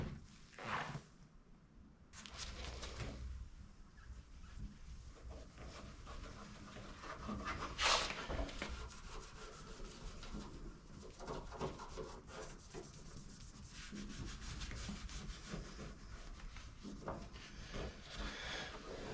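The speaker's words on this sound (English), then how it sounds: "Just a bit of a hand polish while I've got the taillights out" Cloth hand-polishing paint around the taillight opening of a 1996 Mercedes SL500 R129: quiet, close rubbing strokes in an irregular back-and-forth rhythm, alone and continuous, with one sharper scrape partway through.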